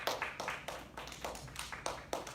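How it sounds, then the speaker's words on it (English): A faint round of clapping from a small group of kids, with a handful of uneven, distinct claps rather than a full crowd ovation. "and round of applause."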